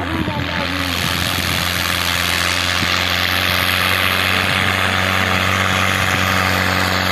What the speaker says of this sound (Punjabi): ਟਰੈਕਟਰ ਆ ਗਿਆ 640